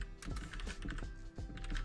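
Rapid typing on a computer keyboard, a steady patter of close, crisp key clicks with no voices.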